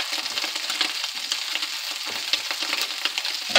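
Octopus pieces searing in a hot pan, a steady close crackling sizzle with bursts of spitting throughout, heard alone without talk.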